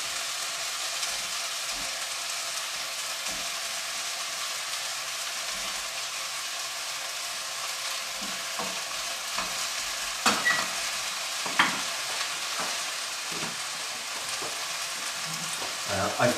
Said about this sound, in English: Okay, then we're going to add the broccoli.